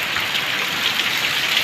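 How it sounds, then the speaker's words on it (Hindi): Heavy monsoon rain pours down outdoors in Ahmedabad, a dense, even hiss of drops striking surfaces that fills the whole stretch at close range, with no voices over it. "इधर बढ़िया हो रही है बारिश, आप भी देख सकते हैं"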